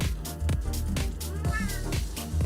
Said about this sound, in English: hi there, cat, what's up?